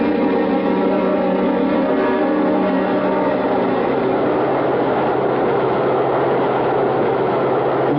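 A continuous rumbling roar of a subway train in motion, steady and enveloping throughout, with no voices.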